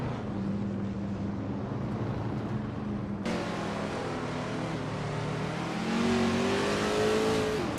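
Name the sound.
race cars at race start at Misano, 1969 Shelby GT 500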